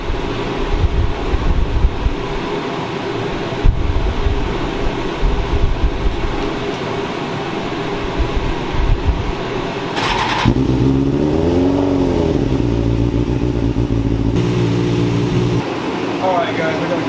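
A Suzuki Katana 750 motorcycle engine cranks and fires in a cold garage at about 32 degrees, settling into a loud, steady idle with a few rising revs, close to the microphone.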